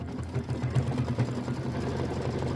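An embroidery sewing machine stitching a satin outline of a heart on a mini quilt block hums with a fast, steady mechanical whir and rapid needle pulses, close and continuous with no talk.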